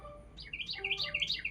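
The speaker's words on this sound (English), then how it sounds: "Do y'all hear that bird singing on my porch?" A small bird singing on a home porch, bright, quick chirps and whistled phrases repeating in a steady rhythm, clear and fairly close against quiet background hum.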